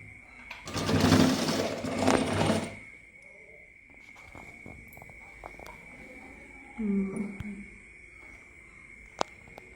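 Sewing machine running a double stitch as sleeves are joined to a garment, one loud burst of stitching near the start, then a quiet hum with small handling clicks and a brief second whir.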